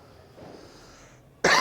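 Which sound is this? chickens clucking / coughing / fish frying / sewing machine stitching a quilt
coughing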